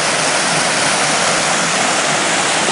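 Water rushes steadily through a mountain setting, a loud, dense, unbroken roar of flowing water close by, heard alone.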